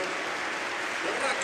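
Crowd in a football stadium applauding as players are substituted during Barcelona vs Mallorca, a broad, distant ripple of clapping sitting under a commentator's voice.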